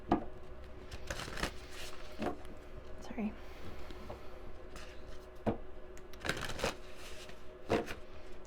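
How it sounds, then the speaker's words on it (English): Several brisk bursts of cards being shuffled, close by, scattered through the clip with a voice speaking briefly between them. "I'm hearing to shuffle one more time"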